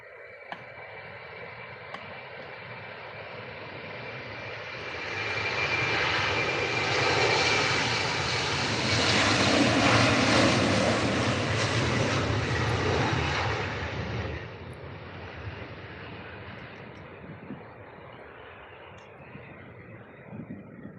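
A KLM airliner roars through its takeoff roll at Manchester Airport, the engine noise building to a loud, broad peak mid-clip before slowly fading into the distance.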